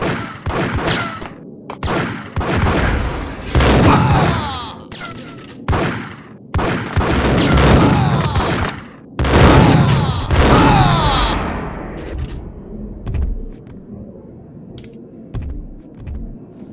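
Bursts of gunfire in the mobile video game Max Payne, loud volleys of rapid shots with booming impacts coming in several clusters separated by brief pauses, then fading to scattered faint clicks near the end.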